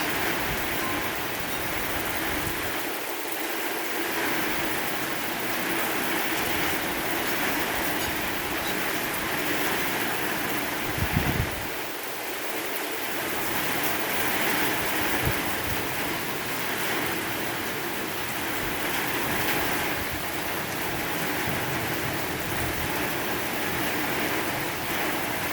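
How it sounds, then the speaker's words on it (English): Strong winds and heavy rain in a severe thunderstorm, a steady dense roar of rain and gusting wind throughout, with a couple of brief low thumps. "Alright, winds are picking up again."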